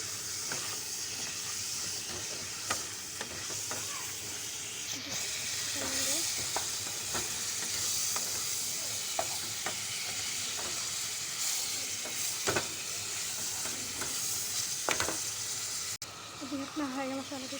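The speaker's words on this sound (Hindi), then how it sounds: "दोबारा फ्राई करेंगे। अच्छे तरीके से फ्राई करना है।" Chicken with green masala and ground garam masala fries in a pan, a constant loud sizzle and hiss with scattered stirring scrapes and clinks, and someone talking briefly over it.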